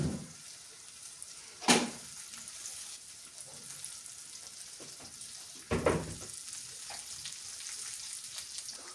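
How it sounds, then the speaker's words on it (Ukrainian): Banosh with brynza cheese and mushrooms fries in a pan with a soft, steady sizzle, broken by two louder scraping stirs of the spoon, one early and one later. "Так, повертаємо наші грибочки."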